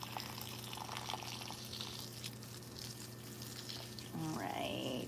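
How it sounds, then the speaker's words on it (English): Water from a fish tank pours onto a potted fig plant, a soft steady splashing trickle that swells louder near the end as the flow increases, close by with a faint background hum. "I'm gonna water this fig until I start to see a little bit of a runoff coming through as well"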